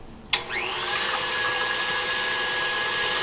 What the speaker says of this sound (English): 2 eggs, and we're going to beat those up first